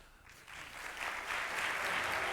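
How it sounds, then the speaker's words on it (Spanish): An audience applauds a Formula 1 engineer, the clapping starting softly and then swelling into sustained, fairly distant applause from a crowd. "estoy convencido de que estáis deseosos ya de darle un aplauso"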